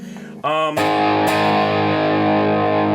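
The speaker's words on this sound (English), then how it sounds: "So that's a pretty straight ahead classic rock kind of crunch tone." An electric guitar with a classic rock crunch tone through an HX Effects unit with light delay and reverb, a picked note then loud sustained distorted chords ringing out steadily.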